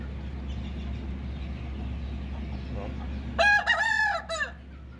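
Shamo chickens cluck softly at a poultry farm over a steady low hum from air conditioners, then a rooster lets out one loud, close crow near the end.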